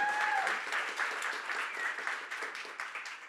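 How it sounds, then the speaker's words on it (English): Audience applause at a film screening panel event, a fairly soft, steady wash of clapping that gradually thins and tapers toward the end. "Give her a round of applause."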